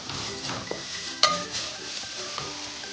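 A vegetable and tofu soup is stirred in a pot over a medium-high flame, with a spoon scraping and clinking against the pot amid a low simmering hiss, with one sharper knock partway through.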